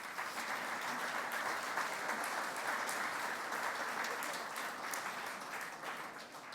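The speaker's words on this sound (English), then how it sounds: "So give yourself a big round of applause." A large audience at a data center awards ceremony applauds steadily and loudly, a dense wash of many hands clapping that holds through the whole stretch and eases slightly toward the end, with no talk over it.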